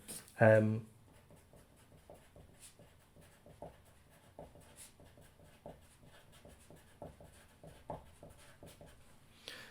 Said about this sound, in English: Okay, so let's write that down.